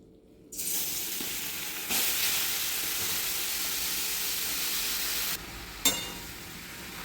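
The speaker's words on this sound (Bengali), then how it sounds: "পুরো ঘিটা আমার গরম হয়ে গেছে এবার আমি গ্রেড করা গাজরটা দিয়ে দেবো কড়াইয়ের মধ্যে" Grated carrot hits hot ghee in a wok and bursts into a loud, continuous sizzle that holds steady for several seconds, broken by a brief stirring clatter near the end.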